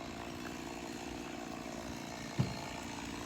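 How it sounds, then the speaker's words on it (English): A chainsaw whines steadily in the distance as park rangers cut up cherry trees, a faint continuous buzz with one brief thump partway through. "The park rangers are. Sawing up some cherry trees."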